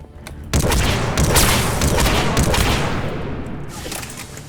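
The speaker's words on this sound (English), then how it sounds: "I think I may have found one of my new favorite shotguns in this game. The way the Disciple fires here." The Disciple shotgun blasting in Mass Effect, firing biotic ammunition: a loud, sustained barrage of heavy blasts and echoing booms that erupts after a brief lull and rolls on close and forceful.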